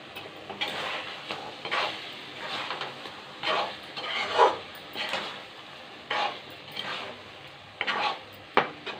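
A spoon scrapes and stirs karuvadu thokku, a dried fish relish, in a pan, producing repeated gentle scraping strokes at an uneven rhythm over a faint sizzle, close and quiet, with no voices.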